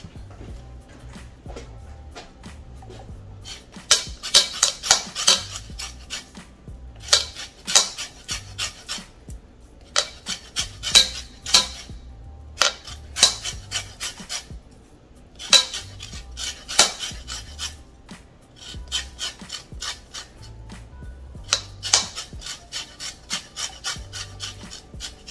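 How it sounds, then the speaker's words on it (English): A lemon is zested against a metal grater in a home kitchen, giving bursts of quick, scratchy rasping strokes separated by short pauses, close and crisp. "then a little bit of lemon zest"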